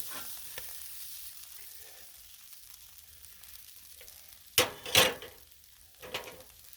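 Beef stir fry with soy sauce cooking on a Blackstone griddle, a quiet sizzle broken by a couple of loud close scrapes or clatters of the spatula near the end, no voices.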